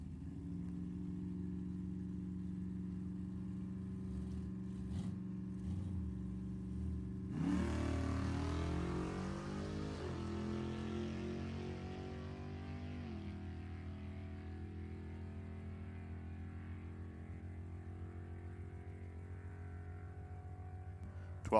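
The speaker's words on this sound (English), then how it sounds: "Yeah, it's Robert Harris in that really loud truck." A loud truck engine idles steadily, then roars as it revs hard and races away down a drag strip at Sacramento Raceway, fading gradually into the distance.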